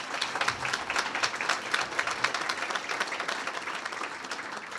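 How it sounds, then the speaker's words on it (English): A room at a community meeting about saving the Big Splash breaks into applause, dense steady hand clapping from a modest audience that holds at an even level throughout. "So a quick round of applause, please, for these guys."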